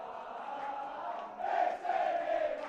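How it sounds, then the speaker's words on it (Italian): Football supporters in the stands at an Italian Eccellenza match between Clivense S.M. and Calcio Schio, cheering and chanting together as a steady roar that swells louder partway through. "Tifo dalle grandi occasioni qui sugli spalti Borgo della Vittoria di San Martino."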